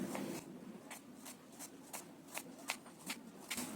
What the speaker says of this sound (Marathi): आता मी कांदा कापून घेते. आणि कांदा आहे ना उभा चिरायचा आहे आपल्याला